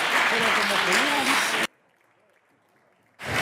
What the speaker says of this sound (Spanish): Estás aplaudiendo la intervención